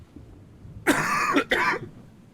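Two quick, harsh coughs close by, the second short after the first, with nothing else around them.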